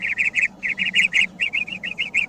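A parrot calling in a rapid series of bright, repeated chirping notes, loud and close, grouped in short bursts with nothing talking over them.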